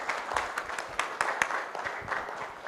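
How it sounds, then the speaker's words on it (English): An audience at a Ghana forum on affordable energy claps for the discussants, a brisk round of applause with distinct individual claps standing out, close and moderately loud, without speech. "A round of applause to all the discussants and all of you"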